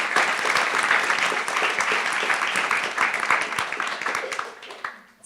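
Audience applause at a college debate society's annual event, loud and sustained clapping from a crowd that holds steady, then thins and fades out near the end.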